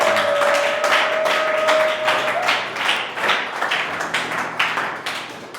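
A church congregation clapping in praise of the Lord, steady rhythmic applause from a crowd, fairly loud and close, with a sustained tone early on and no talking over it.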